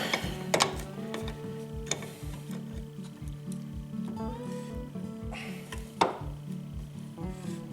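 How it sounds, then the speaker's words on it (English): A Honda wrench tightening the magneto flywheel nut on a Yamaha Blaster ATV engine gives quiet, steady metallic ratcheting clicks in a regular ticking rhythm, with a few sharper clanks, close and alone with no talking. "Use my Honda wrench here to tighten it up."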